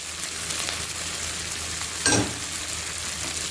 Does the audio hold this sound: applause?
no